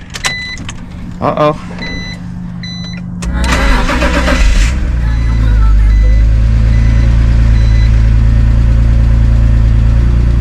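A BMW engine cranks with a rapid churning whir, then fires and settles into a loud, steady idle close by; a brief spoken exclamation comes before the start.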